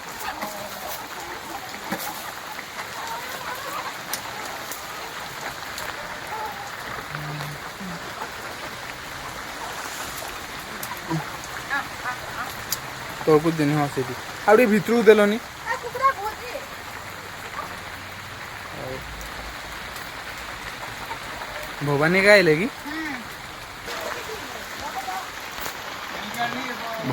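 Heavy monsoon rain falls steadily at a rural Odia home, a constant hiss of drops on surfaces that runs through the whole stretch while people talk over it.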